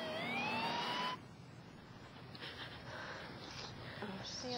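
Ambulance siren from a South Portland emergency call, a rising wail heard loud for about a second before cutting off, then a dull rumbling background with faint distant tones.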